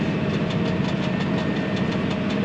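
A new tractor engine drones steadily while cultivating a field, with a constant low rumble and mid-range hum and faint rhythmic ticking on top, loud and unbroken throughout.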